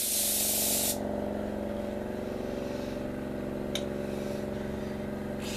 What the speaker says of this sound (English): Okay, here we go with the clear coat.